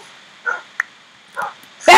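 Dogs in the video game Minecraft give a few short, separate yipping barks, spaced out and fairly clear, ending with a sudden louder burst.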